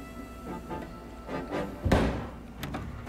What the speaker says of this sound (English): Oh, there was a gunshot right there.